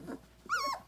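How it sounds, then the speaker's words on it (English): Puppies from a litter of twelve doodle pups, a brief faint growl followed by a higher whimpering yelp, close by and quiet. "these are Bella's puppies"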